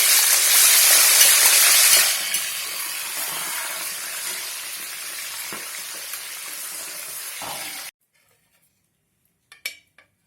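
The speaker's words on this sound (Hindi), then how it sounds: "इसी तरह से हम और भून लेंगे" Dal roasting in a pan for mixed namkeen gives a loud, steady sizzle with faint stirring that stops abruptly, followed by near silence and a couple of brief clinks.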